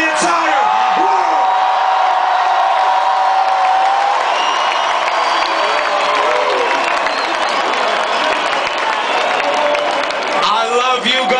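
A large festival concert crowd at Fête du Bruit in Saint-Nolff, France, roars and cheers in a loud, sustained wash, with whoops, scattered applause and a singing, chanting swell throughout.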